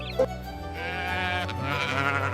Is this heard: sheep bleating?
yes